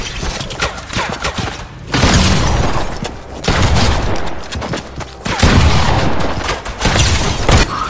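Gunshots in the Fortnite video game, heard as loud, close volleys of rapid fire in several bursts separated by brief lulls, with heavy thumping impacts mixed in.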